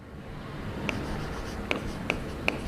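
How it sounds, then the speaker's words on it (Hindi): Chalk or marker writing on a classroom board during a physics lesson, a few short sharp taps and strokes spaced apart over a faint room background. "तो मैं यहां लिखता हूं क्या,"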